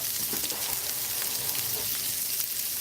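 Frying on a stove for a meat casserole frittata, a steady, close, even sizzling hiss that runs unbroken through the moment with no talk over it.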